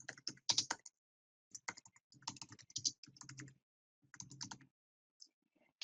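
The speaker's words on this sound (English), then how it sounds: "then type your entry." Quiet computer keyboard typing in short irregular bursts of close, crisp key taps, separated by brief silent pauses.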